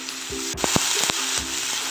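Onions, tomato and grated garlic fry in a pan, a steady close sizzle broken by a few sharp crackles and stirring scrapes, with no talking.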